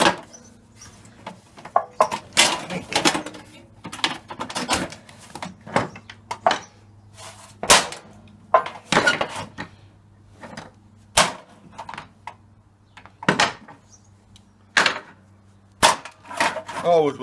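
A hammer banging on metal parts pulled from a dishwasher being broken down for scrap, a long series of sharp, irregular clanks and knocks, loud and close, with brief pauses and some quiet talk between the bursts.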